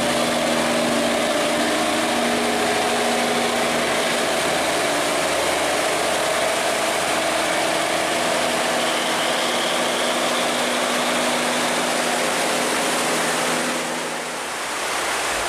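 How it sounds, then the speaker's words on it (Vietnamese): A powerful barge engine drones steadily as the vessel crosses a dam in strong current, a constant loud rumble blended with rushing water that eases slightly near the end. "Thật sự là động cơ của chiếc xà lan này cũng rất là mạnh mẽ đấy các bạn."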